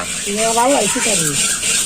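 Rice grains hiss and rustle as they are stirred briskly in a hot pan with sand to make puffed rice, a continuous scraping sizzle with a faint bird-like chirp over it.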